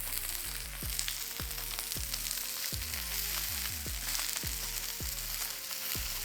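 Salmon bites frying in a hot pan give a continuous close sizzle with a soft crackle, steady and without any voices.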